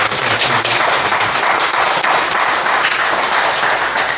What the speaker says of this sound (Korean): 우리 다시 한번 뜨겁게 박수 한번 해주세요.